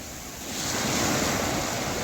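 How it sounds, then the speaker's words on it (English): Ocean waves wash onto the shore at Catalan Bay, Gibraltar, as a broad, steady rush of surf that swells slightly, mixed with wind buffeting the microphone. "So just watching those waves hit the shore there."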